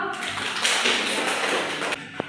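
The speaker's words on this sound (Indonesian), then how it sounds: "Beri aplaus untuk kelompok audio." Classroom applause for a group's presentation during a physics lesson on uniformly accelerated motion: a dense, steady patter of many hands clapping close by, holding for about two seconds before a couple of louder single claps near the end.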